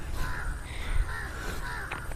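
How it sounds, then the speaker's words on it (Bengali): Crows caw near a riverside village by the Chinai river, giving repeated harsh calls at moderate distance over a low, steady outdoor background. "এই পাখির ডাক"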